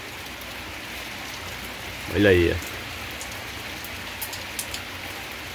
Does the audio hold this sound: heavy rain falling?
yes